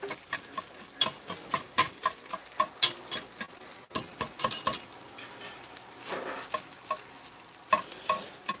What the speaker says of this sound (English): I found a whisk chops this sausage up nicely